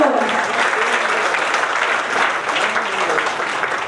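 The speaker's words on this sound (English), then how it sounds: "Huge round of applause for him." Steady, dense clapping from a sizable crowd at an awards night, loud and sustained throughout with no break.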